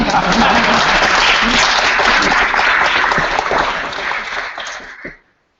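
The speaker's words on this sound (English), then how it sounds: "you can applaud now. It's the end of the scene" Audience applause at the end of a play scene read aloud in a library, full and dense from the start, gradually easing and then stopping abruptly.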